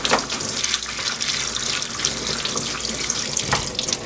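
Tap water pours steadily into a sink while dried pollock is washed under it, a close, continuous gushing splash with slight surges and no talking.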